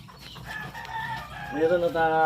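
Newly hatched Chabo bantam chicks and a hen in benjarong color, with a close hen clucking and softer chick peeps running through the whole moment, and a low human voice murmuring faintly underneath.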